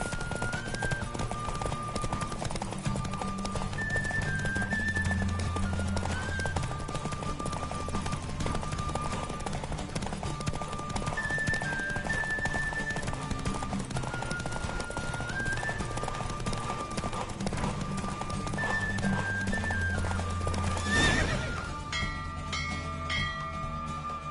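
Horse galloping in a race in The Witcher game, rapid clip-clop hoofbeats running steadily and close under a music score, with a brief burst of noise near the end.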